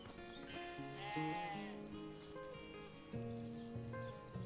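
Sheep in Divinity: Original Sin bleat in long wavering calls, several overlapping voices fairly close over a quiet game background.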